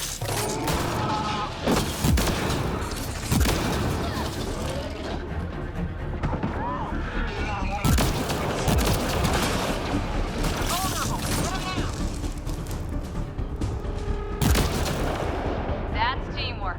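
Gunfire fills a firefight in the PC game Mass Effect: Andromeda, loud, dense and continuous with heavy booming shots and rapid bursts, while character voices speak over the combat.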